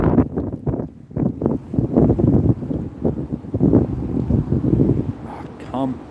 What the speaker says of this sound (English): That's why it's so windy right now.